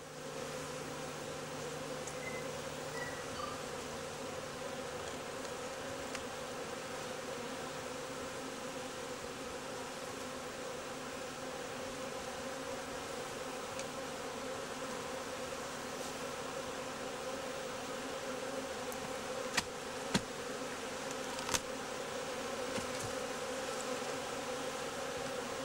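Honey bees hum and buzz steadily inside a hive whose workers have drawn out wax cells on queen-rearing lay cages, a dense continuous drone with a few sharp clicks near the end and no voices.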